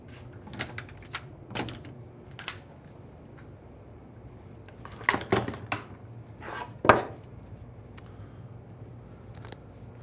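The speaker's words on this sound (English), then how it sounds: "I'm just going to grab some clamps." Woodworking clamps are picked up and handled in a workshop during a cabinet face-frame glue-up, producing a scattering of faint knocks and metallic clicks with a sharper clack or two among them.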